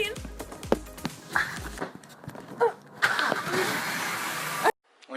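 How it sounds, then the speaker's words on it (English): A BMW E90 car engine cranks and catches, with short starter bursts and then a steady running roar that cuts off abruptly near the end. Voices and movement nearby come first. "No, don't start the car!"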